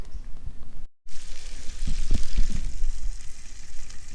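Bacon sizzles in a frying pan at a riverside campsite, a close, steady crackling hiss with small pops, broken once by a brief silent gap before resuming.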